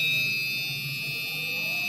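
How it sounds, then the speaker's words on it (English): An electronic buzzer on a light-sensor circuit with an LED gives a steady, shrill continuous tone, loud and close, sounding alone without pause. "you can see that the buzzer is making sound and the LED is glowing"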